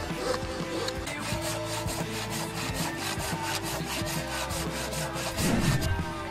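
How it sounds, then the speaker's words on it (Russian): A hand saw cuts firewood at a winter camp with a stove and tent, rhythmic back-and-forth rasping strokes repeating steadily at moderate distance for several seconds. "Пила."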